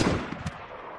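A gunshot in the video game DayZ, a single muffled distant report that decays quickly, heard alone without speech.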